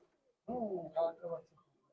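A Pulsar line pigeon, bred from Kalanga and red-eyed birds, gives a single short cooing phrase in two or three rolling pulses. It sounds fairly close and stands alone after a moment of quiet.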